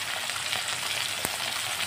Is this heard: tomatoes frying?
yes